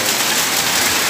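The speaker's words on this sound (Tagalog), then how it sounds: "Yan o, ang lakas ng ulan." Heavy rain pours down in a dense, constant hiss, loud and close throughout with no break.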